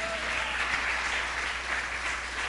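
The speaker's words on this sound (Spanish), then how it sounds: "Aplauso al Señor de la Biblia." Congregation applauding at a church sermon, a steady wash of clapping that carries on evenly throughout at moderate volume, with no voice over it.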